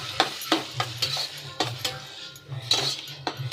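A spoon scrapes and clinks against a pan as prawn thokku is stirred and sautéed, sharp metallic knocks in an uneven rhythm over a low sizzle.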